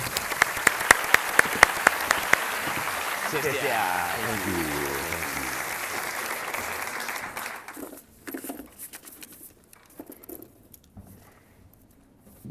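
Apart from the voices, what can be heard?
audience applause welcoming a speaker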